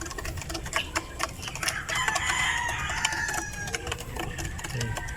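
A large Rhode Island rooster crows once, a long rising cock-a-doodle-doo, while free-range chickens cluck and peck nearby in a busy, rhythmic chatter.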